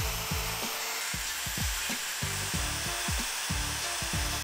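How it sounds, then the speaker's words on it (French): A file scrapes back and forth over weld beads on an iron pergola, making a steady rhythmic rasp of about a dozen close, harsh strokes. "On va le refaire évidemment à la lime à chantourner, ça fera plus propre."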